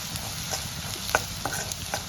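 Coriander goes into a hot tempering for a Kolhapuri-style onion, potato and cowpea pod vegetable dish, producing a steady, moderate sizzle with a few sharper crackles and faint stirring.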